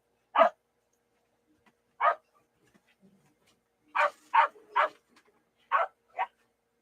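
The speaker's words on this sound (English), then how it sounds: "You can hear them barking now." Indoor dogs that want to go outside bark sharply about seven times in short separated bursts with quiet gaps between. The barks are close and clear, with no talking over them.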